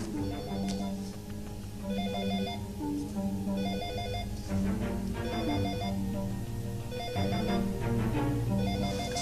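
A telephone in a former deputy's apartment ringing with incoming calls, a repeating electronic ringtone pattern in steady bursts over a continuous background, moderately loud, with no talking.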